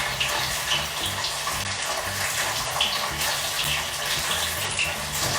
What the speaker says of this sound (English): Now you just gotta deep fry them until it's a bit golden brown